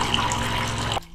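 Water running and splashing steadily in the historic Sutro Tunnel mine, a close, continuous trickling flow that cuts off abruptly after about a second.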